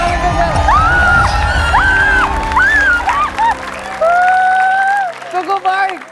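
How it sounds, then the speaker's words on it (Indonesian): A studio audience on the Family 100 game show applauds contestant Bella, with loud clapping and cheering under bright electronic jingle tones. The noise fades toward the end. "Boleh tepuk tangan untuk Bella."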